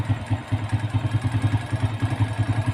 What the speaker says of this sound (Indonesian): kalau kurang langsam ya kita putar ke kanan ya. Nah, itu meninggikan langsam ya, meninggikan putaran mesin.